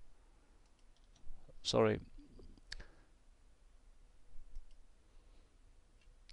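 Computer mouse clicking while selecting files to upload WordPress files to 1and1 hosting space, a couple of close, sharp clicks in a quiet room with a brief spoken word nearby.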